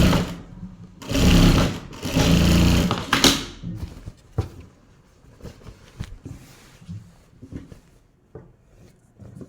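A sewing machine runs a double line of stitching while joining fabric panels, two close bursts of rapid mechanical whirring followed by quieter taps and handling noises, with no voices.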